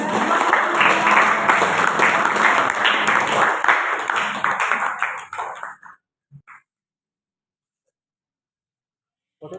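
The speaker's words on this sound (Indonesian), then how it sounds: "Kita berikan aplaus kepada kelas" A classroom claps for class 11 with dense, lively applause for about five seconds before it dies away into silence, with a few stray claps afterwards.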